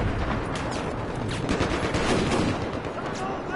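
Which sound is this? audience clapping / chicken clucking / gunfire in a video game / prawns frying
gunfire in a video game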